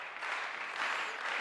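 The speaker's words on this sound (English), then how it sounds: "So the crowd enjoying it, applauding the players as they make their way back to the table." A crowd at the England Championships table tennis final applauds the players with steady, dense clapping that fills the whole moment, with no talk over it.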